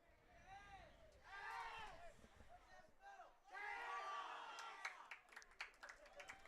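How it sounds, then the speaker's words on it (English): Crowd at a high school JV football game cheering and yelling in bursts, rising and falling with scattered shouts, at a moderate distance. "And the Kahok crowd gets into it."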